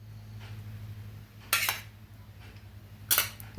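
A metal spoon scraping and knocking against a bowl while ghee is worked into wheat flour dough, with two distinct clattering bursts over a steady low hum.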